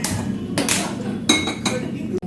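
A metal kadhai is set down on a home kitchen stove with loud clanks and clinks of cookware, a few sharp metallic knocks in quick succession, close by.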